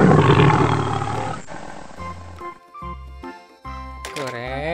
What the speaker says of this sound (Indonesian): Harimau.